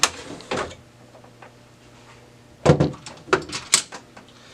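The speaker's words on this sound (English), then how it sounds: "We're also going to remove the imaging unit." An imaging unit is pulled from a Lexmark MS810 laser printer, giving a close plastic clack followed by a quiet pause and then a burst of sliding scrapes and clicks as the part comes free.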